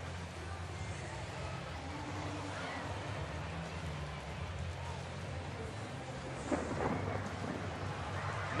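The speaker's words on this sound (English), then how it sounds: "Now we're seeing some lightning and hearing some thunder" Rolling thunder rumbles through a steady downpour over a Texas ballpark during a rainstorm, low booms swelling near the end over constant rain hiss, with faint crowd murmur beneath.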